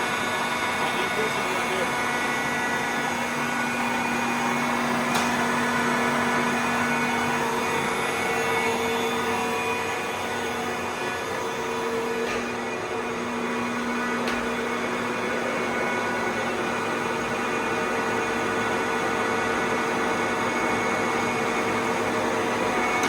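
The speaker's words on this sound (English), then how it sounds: "It's a speed change on the spindle." Spindle of a Cincinnati Vercipower 72 x 18 inch horizontal milling machine running after a speed change, a steady loud mechanical hum and whine with a constant tonal drone that persists unbroken, close by.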